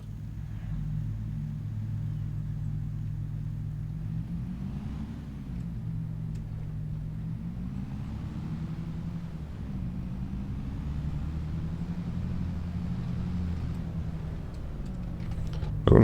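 A combine harvester on wheat settings in Farming Simulator 25 drives along with a steady, loud low engine rumble whose pitch shifts slightly as it moves, continuous and without talk.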